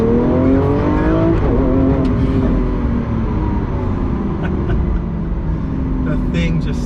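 A Lamborghini Aventador SVJ engine on a downshift during a road drive: a loud, close engine note that drops in pitch and then rises again, droning steadily throughout.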